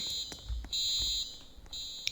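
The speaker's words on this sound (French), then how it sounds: "Ça déclenche une alarme." An alarm in a Roblox VR video game beeps in repeated high-pitched pulses, three long tones separated by short gaps, fairly faint with a few soft thumps underneath.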